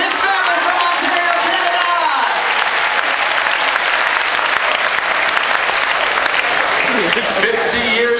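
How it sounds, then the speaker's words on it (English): Loud, sustained applause from a crowd at a welcome show aboard the Carnival Liberty cruise ship, continuous and full for several seconds as a family is honored. "A round of applause for Bob and his family from Ontario,"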